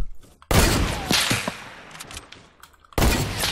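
Gunfire in the Fortnite video game: two loud broadband bursts of shots open and close the stretch, with a busier, noisy exchange of fire between them.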